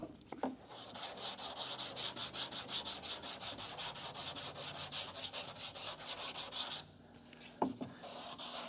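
Bodywork is hand-sanded with 180-grit sandpaper, producing quick, rhythmic back-and-forth scratchy strokes up close. After a short pause and a light knock, the sanding starts again.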